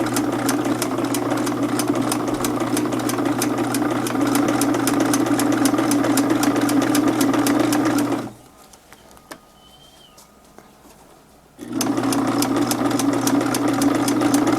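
Sewing machine stitching couch upholstery along piping, a loud rapid mechanical whirr that runs steadily, stops for a few seconds of near quiet, then starts again.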